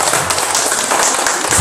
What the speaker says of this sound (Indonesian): Tepuk tangan aplaus untuk kelompok 2